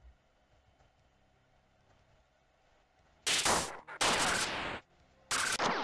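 Blaster gunfire in a Star Wars video game comes in three loud, close bursts of rapid shots after a quiet stretch, each cutting off abruptly.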